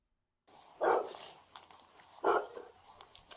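Dog at a police encounter in combat footage, with two short loud bursts about a second and a half apart, like barks or yelps, over a noisy background.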